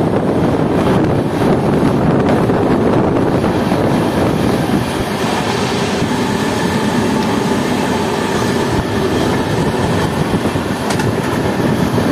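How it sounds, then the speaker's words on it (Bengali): The Kaziranga Express races along at 110 km/h, a loud continuous roar of wheels and rushing wind with faint rhythmic clacking of the rails. "কাজিরাঙ্গা এক্সপ্রেস তার নির্ধারিত স্পিড 110 কিমি/আওয়ার স্পিড তুলে ফেলেছে"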